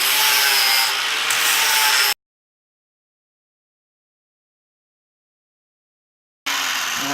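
Grinding the welded seat hinge of a 1965 Mustang Fastback smooth: a loud, steady abrasive rasp runs for about two seconds, cuts to silence, then resumes near the end.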